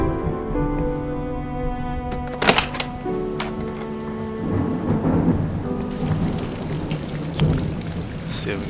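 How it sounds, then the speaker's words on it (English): Rain pours steadily with a sharp thunder crack and rumbling in King's Quest: The Silver Lining, mixed with a sustained musical score beneath the storm. "Miles away, the sea and the rain reunite once again."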